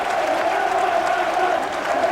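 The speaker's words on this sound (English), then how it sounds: "the crowd have gone absolutely bananas here" Football crowd at a Burnley versus Reading match roaring and cheering after a Burnley goal, a dense, steady wall of noise with no break.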